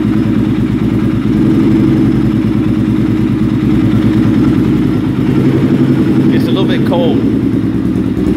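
A cold-started Honda 400EX quad engine idles steadily up close, a continuous low throbbing rumble with a faint higher whine near the end.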